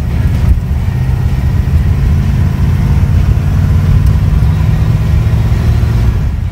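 A modified 1954 Ford street racer with a 406 cubic inch V8 and 4-speed transmission revs hard, a loud, steady, deep engine roar that holds without a break.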